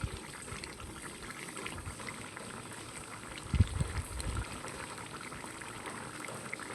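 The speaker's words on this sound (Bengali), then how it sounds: "গ্রেভিটা অল্প ফুটে গেলে" Crab curry gravy for Bengali kakra kosa bubbling in a pan, a soft steady simmer with a burst of thick, plopping bubbles partway through, heard alone.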